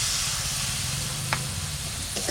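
Tomato puree hits a hot pan already holding ground cumin, coriander, ginger and chili paste, and a steady loud sizzle hisses throughout, with a couple of brief clinks near the end.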